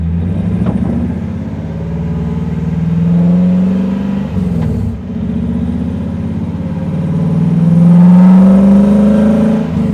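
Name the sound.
supercharged V8 drift truck engine accelerating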